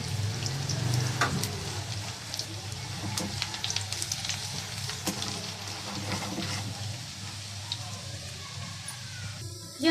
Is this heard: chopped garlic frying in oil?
yes